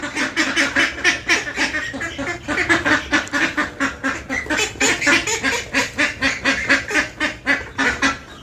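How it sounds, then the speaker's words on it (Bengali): A flock of ducks quacks loudly and continuously nearby, the calls overlapping in a rapid, busy chorus. "এগুলো সব হাঁস মুরগি"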